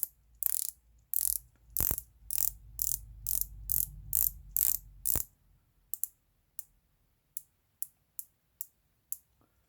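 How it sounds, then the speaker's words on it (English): Clicking of a 60-click unidirectional bezel on a Pagani Design PD1671 Black Bay homage watch, a run of close, crisp ratcheting clicks in quick bursts, then slower, spaced single clicks. "Now this is a 60 click unidirectional bezel."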